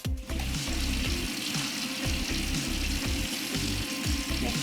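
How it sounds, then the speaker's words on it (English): Hands being washed under a running kitchen tap before cooking, a steady close splash and hiss of flowing water with a low rhythmic rumble beneath it. "We always want to make sure we wash our hands good before we start cooking."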